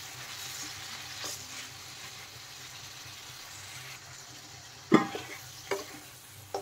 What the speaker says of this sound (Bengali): চিকেনগুলো আমি একটু ভেজে নেব, হালকা ভাজবো